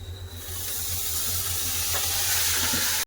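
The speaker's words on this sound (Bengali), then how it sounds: "এবার মশলা মাখানা মাংসটা দিয়ে দেবো" Spice-marinated chicken hits hot oil in a pan, starting a loud, steady hissing sizzle that builds and holds before cutting off abruptly.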